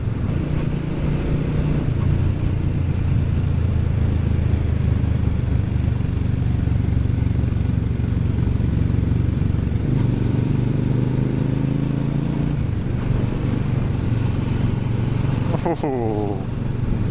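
Several 2019 Triumph Scrambler motorcycles produce a loud, steady engine drone that rises slightly partway through, with people talking over it.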